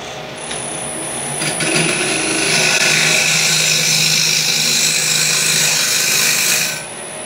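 A woodturning lathe spins a piece of wood while a tool trims it, a loud continuous close scraping whir that builds within the first seconds, holds steady, then cuts off at the end.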